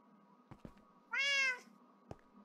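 A cat meows once in the Minecraft video game, a short, clear, tonal call standing alone against quiet background noise, with faint soft clicks before and after.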